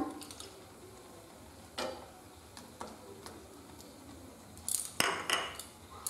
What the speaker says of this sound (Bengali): সমস্ত উপকরণ আমি একটু নেড়ে দিচ্ছি